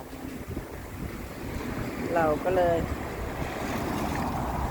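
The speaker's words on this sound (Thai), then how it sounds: "พอดีลมแรงแล้ว เริ่มจะเข้าหน้าหนาวแล้วนะคะเต็มตัว" Strong wind blows outdoors in early cold-season weather, a steady loud rumble buffeting the microphone throughout while someone speaks briefly.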